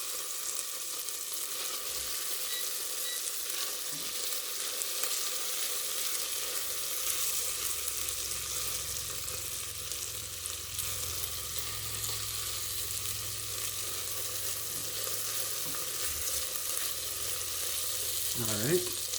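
Garlic sizzles in a pan as the base of a quick tomato pasta sauce, turning golden brown in a steady close hiss and crackle that carries on throughout with faint low rumbles underneath.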